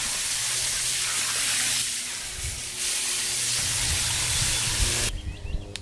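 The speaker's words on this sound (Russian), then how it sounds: "Набрали воды" Water pours and splashes steadily into a garden pond basin, a broad hissing rush that shifts slightly in tone before easing off near the end.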